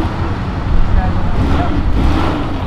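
A Jeep Cherokee with a V6 engine pulling out of a car event, a loud, rumbling low engine note over outdoor crowd and traffic noise, close by and steady.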